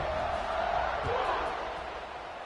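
Stadium crowd at a SMU at Missouri college football game roaring steadily around the kickoff, a broad dense cheer that slowly fades.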